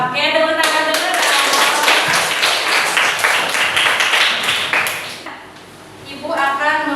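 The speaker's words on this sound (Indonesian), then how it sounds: "tepuk tangan dulu dong" A classroom full of students claps hands together in a dense burst of applause lasting several seconds, loud and close, fading briefly before a voice speaks near the end.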